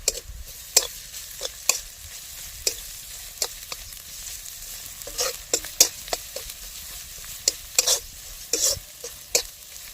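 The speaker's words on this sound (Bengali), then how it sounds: "সুন্দর করে ভেজে নিয়েছি পেঁয়াজটার সাথে" Grated garlic and ginger frying with onion in a pan, a soft continuous sizzle broken by frequent sharp clicks and scrapes of a spatula stirring against metal, close and moderately quiet.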